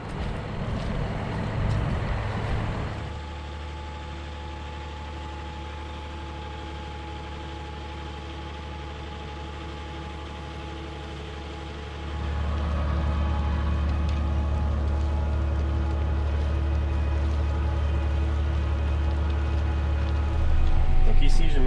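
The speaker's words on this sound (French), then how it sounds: "le tracteur il commence à patiner" A John Deere 6140R tractor pulls a stubble plough through thawing winter ground, its diesel engine droning steadily up close, with a deeper, heavier load note rising midway and climbing again near the end.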